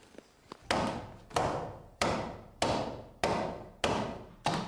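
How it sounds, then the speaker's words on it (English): A traditional axe hews a pine plank for skis, striking in a steady series of seven sharp, woody chops about every half second to second, each ringing out and fading before the next. "He is using a traditional axe to hew the shape out"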